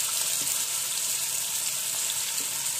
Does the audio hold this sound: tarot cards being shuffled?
no